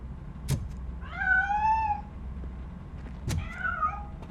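A cat meows twice in the Robocop video game as it escapes, each long wavering call preceded by a sharp thump, heard clearly over a low background hum with no talk.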